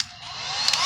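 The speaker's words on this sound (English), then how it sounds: "in order to get an even sheen dry, we also use the blow dryer for that." A blow dryer dries fresh paint on a custom rim for a Ford Econoline E350, a steady close whoosh of airflow rising slightly in strength.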